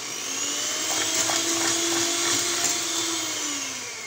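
An electric mixer beats the ingredients for a praline and caramel ice cream, giving a steady, loud whirring drone that holds for the whole stretch and eases slightly at the end. No one speaks.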